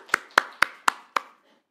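Five evenly spaced, sharp claps ring out close and clear inside a church during a Wednesday worship service, then fade to quiet.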